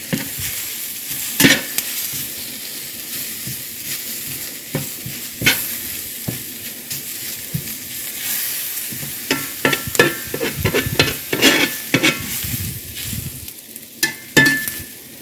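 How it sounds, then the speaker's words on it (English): All-purpose flour is stirred into onions frying for gravy, giving a constant loud sizzle broken by repeated utensil scrapes and knocks against the pan, growing busier toward the end, with no talking. "sprinkle on 2 tablespoons of flour, just plain old all-purpose flour, and stir that around"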